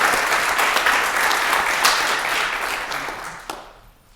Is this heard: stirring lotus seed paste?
no